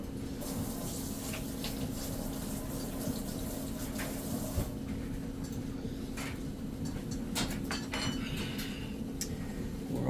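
Water runs steadily from a kitchen tap as a utensil is rinsed off while deviled eggs are made, a continuous hiss and splash with a few faint clinks.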